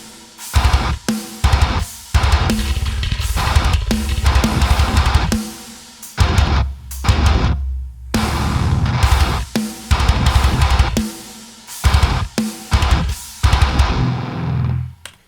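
Heavily distorted electric guitars chug through a metal breakdown, loud bursts broken by sharp stops and short silences.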